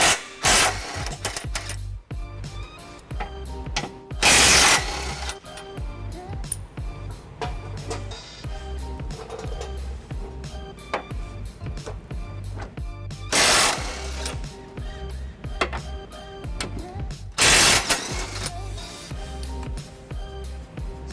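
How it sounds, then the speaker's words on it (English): A socket wrench with a 21mm socket loosens bolts under a 2011 or later Dodge Durango during a trailer hitch installation, producing a steady, close mechanical rattle broken by several loud, harsh bursts. "I've got a 21mm socket here to undo these bolts"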